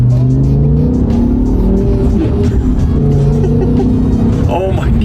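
A V10 BMW M5 engine in race mode with a sprint booster fitted, a loud steady drone with shifting revs and some tire noise, while people talk over it.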